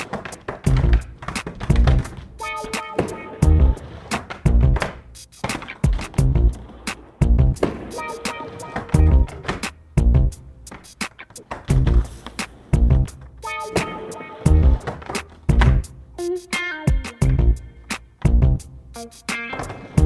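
Skateboard on a wooden mini ramp rolling and clacking over the coping, with repeated sharp wheel knocks and rumbling runs at a steady rhythm, close by and fairly loud.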